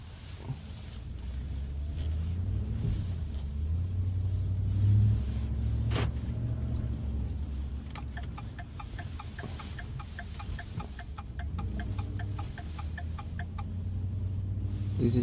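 A Ford F-150 Harley Davidson Edition 4x4 pickup with a 6-speed automatic driving along: a low engine drone and road rumble heard from inside the cab, swelling as it accelerates, with rapid rhythmic ticking partway through.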